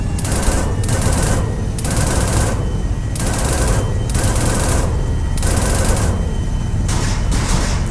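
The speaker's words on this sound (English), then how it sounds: "I'm just going to put a bit of fire towards them." Sustained automatic gunfire in Arma 3 Apex on Tanoa pounds out in regular bursts, loud and close, about ten rhythmic volleys over a constant roar of combat noise, with no talking.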